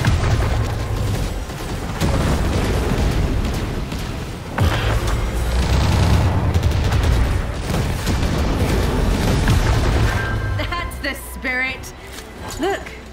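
Gunfire and booming blasts from the mobile video game Catalyst Black ring out in loud dense bursts over a music score, with short gaps between them and electronic effects near the end.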